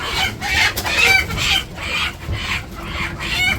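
Village chickens cluck and squawk together at feeding time, a busy, fairly close flock calling in overlapping bursts with no pauses.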